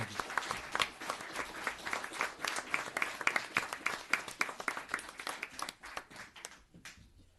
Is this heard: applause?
yes